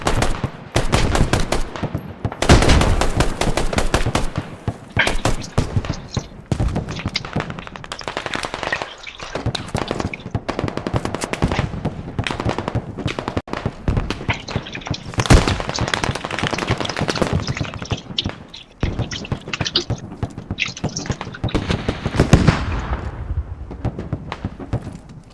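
Grenade launchers and gunfire in a video game, sustained rapid bursts of shots and thudding blasts going almost nonstop, loud and dense, with brief gaps between volleys.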